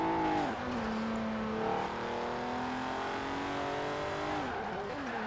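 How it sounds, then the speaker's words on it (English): Retro Alfa Romeo in Forza Horizon 4 with a 500-horsepower engine, its exhaust revving with a raspy, loud note that climbs and shifts pitch through gear changes, steady and close throughout. "That exhaust note is mad."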